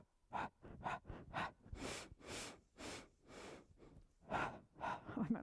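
Rhythmic breathing during the Pilates hundred exercise, a series of sharp, close inhales and longer exhaled breaths in a steady counted pattern, with no talking.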